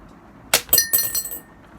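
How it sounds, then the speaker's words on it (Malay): A shilling coin drops into a glass after a sheet of paper is pulled out from under it, giving a sharp glassy clink followed by a few quick, ringing rattles as it settles. "Apabila saya tarik dan pukul kertas ini, duit shilling ini akan jatuh ke dalam gelas."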